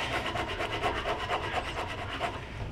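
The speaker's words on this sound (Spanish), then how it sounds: "yo voy a utilizar pequeños escofines" A small hand rasp files a carved wood sculpture of the Incredible Hulk in quick repeated back-and-forth strokes, a close, scratchy rubbing rhythm with no talking.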